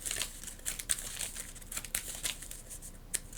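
Marvel Champions cards being shuffled, a run of soft, close crisp riffles and papery flicks at uneven intervals, fairly quiet and with no talk.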